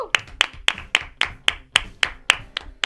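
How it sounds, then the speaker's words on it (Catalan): An audience at a castellers human-tower event between Tarragona teams clapping in unison: about ten sharp, evenly spaced claps in a quick steady rhythm, close and clear with no talk. "ja s'han aplaudit, que és un primer pas"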